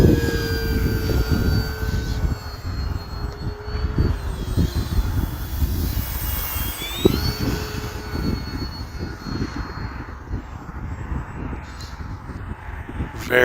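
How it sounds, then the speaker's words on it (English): An Arrows RC warbird model airplane flies past in light snow, its engine whining steadily with shifting pitch as it passes and banks, loud and continuous throughout. "Very fun airplane to fly though"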